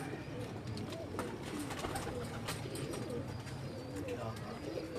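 A female Teddy pigeon on a rooftop loft coos in low, repeated murmurs among other birds, with faint voices and ambient noise in the background.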